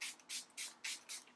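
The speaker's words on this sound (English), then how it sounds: "throw a setting spray on" Matte makeup setting spray misted onto the face in five quick, evenly spaced pumps, each a short crisp hiss, close and alone without talking.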